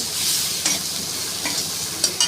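Spice paste sizzles in a pan with fried taro, a soft steady frying hiss broken by a few sharp scrapes and clinks of a spatula stirring against the metal.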